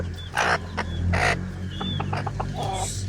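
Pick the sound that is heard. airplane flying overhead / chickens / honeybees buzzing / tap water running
chickens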